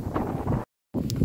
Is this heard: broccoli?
no